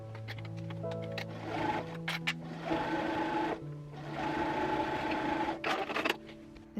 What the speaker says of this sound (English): When you reach the arm side, just sew it ever so carefully because you don't want to sew over a wrinkle